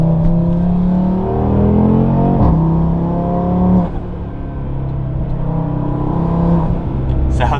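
A 2024 Audi RS3 with an ECS Tuning cold air intake revs up loudly and close, its engine note rising and dropping in repeated sweeps.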